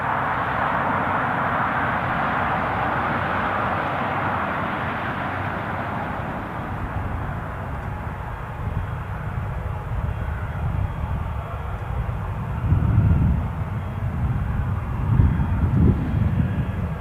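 Passenger aircraft arriving at Newcastle International Airport, a loud sustained jet engine roar heard from the ground, steady and broad, with low rumbling surges building toward the end and no talking.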